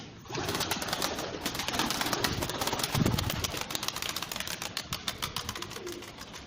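Bango pigeons taking flight, a rapid flurry of wing flaps and fluttering that rises and continues close by, with faint cooing underneath.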